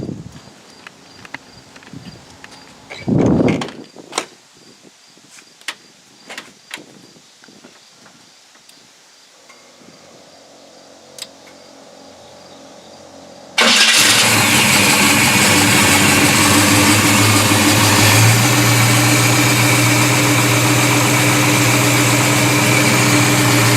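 A 1972 Chevrolet Monte Carlo comes to life with a sudden loud engine start about halfway through, after some quiet clattering and handling noises, then settles into a steady, rumbling idle that carries on to the end.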